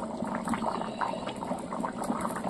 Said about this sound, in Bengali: দেখো জল দিয়ে দিয়েছি, এখন টকবগিয়ে আবার ফুটছে।